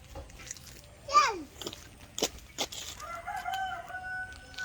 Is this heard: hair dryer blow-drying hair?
no